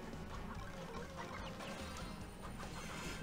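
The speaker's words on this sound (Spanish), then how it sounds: "Vamos con gallina a corretear aquí." A chicken character in the video game Squad Busters clucks amid dense, busy game sound effects and music, a steady loud wash with no pauses.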